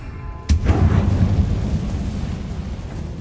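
Hogwarts Legacy Incendio fire spell: a sudden loud burst followed by a deep rumbling, crackling roar of flame that slowly fades.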